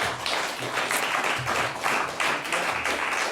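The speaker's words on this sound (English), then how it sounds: "So please give him an applause already." Applause from an audience greeting a lecturer at a talk at De Balie, a steady wash of many hands clapping at a moderate level, close and continuous throughout.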